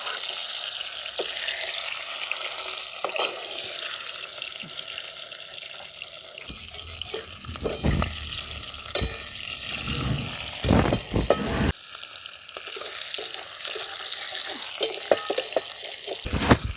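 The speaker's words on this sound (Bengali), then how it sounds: "মাছের মাথাগুলোকে ভেজে নেব" Salted, turmeric-coated katla fish heads frying in hot oil, a loud crackling sizzle with sharp bursts and pops as pieces shift in the pan.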